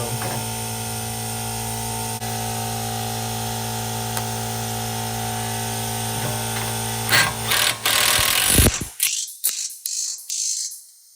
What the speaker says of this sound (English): Disregard the air compressor in the background.